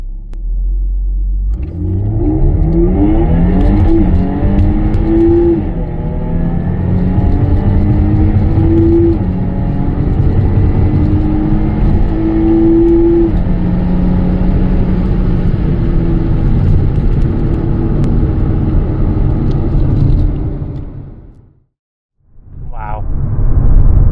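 A tuned 450-horsepower Jaguar F-Type with a Stage 2 tune launches hard in first gear with traction control off, its engine roaring loud and close as revs climb steadily for about twenty seconds, then cut briefly before the engine picks up again.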